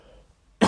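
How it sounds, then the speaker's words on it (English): A single sharp cough bursts out near the end after near silence, loud and close. "I need a cough."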